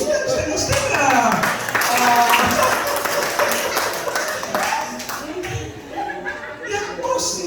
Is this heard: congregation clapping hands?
yes